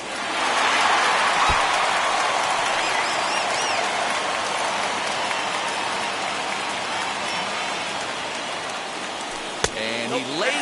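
Stadium crowd in the baseball video game MLB The Show 21 rising for a 3-2 count, a steady roaring wash of cheering that holds loud throughout, with a brief sharp knock near the end.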